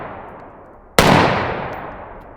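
A single 5.56 rifle shot fired through a Black Anchor Tactical Nautilus suppressor cracks sharply and loudly, then fades in a smooth, lingering tail over steady background noise.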